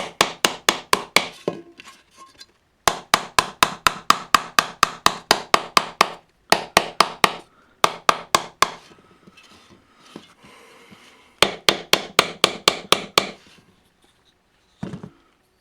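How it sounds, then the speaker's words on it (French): A hammer strikes a forged steel T-Rex footprint in rapid bursts of sharp metallic blows, loud and close, with short pauses between runs and a final few isolated strikes. "je vais juste venir frapper avec mon marteau à l'intérieur pour lui redonner de la définition"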